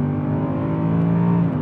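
A Mercedes CLK63 AMG Black Series engine revs hard in a sustained, smooth, loud mechanical roar, its pitch climbing slightly across the short burst.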